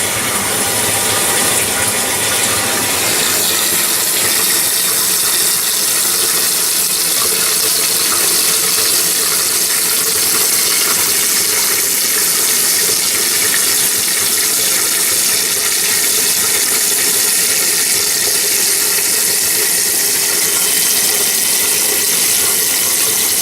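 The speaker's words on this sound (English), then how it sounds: "we can turn on the water to fill the tank" Water rushing steadily into a toilet tank through a newly installed fill valve, a loud, continuous broadband hiss and gurgle with a faint mechanical rattle, running unbroken and alone without any talk.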